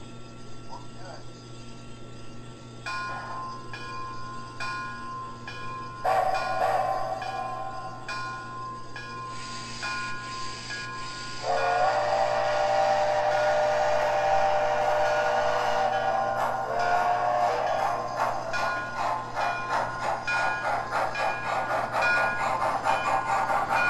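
An MTH Hillcrest Lumber Climax model locomotive runs with a steady electric motor hum, rhythmic mechanical clicking and rising whirring as it gets moving, close and continuous over a low background drone.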